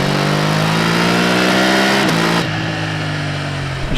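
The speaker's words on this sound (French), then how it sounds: "Dès qu'on arrive à 6000 tours, la moto elle se déchaîne." A BMW F900 GS motorcycle engine revs hard on a road ride, loud and close, its pitch climbing steadily before a quick shift-like dip, then pulling again under continuous rushing wind.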